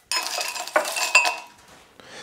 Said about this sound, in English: I'm gonna put the ice in my serving glass